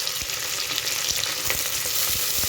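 Fenugreek, mint and coriander leaves fry in a pan of mutton curry, giving a loud continuous sizzle with soft stirring clicks and scrapes throughout.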